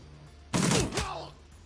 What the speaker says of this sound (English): Burst fire. 2 attacks in 1 action